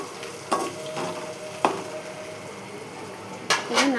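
Ginger and turmeric frying in a pan, with a steady close sizzle, scraping stirs of a metal spoon and a few sharp clanks against the pan.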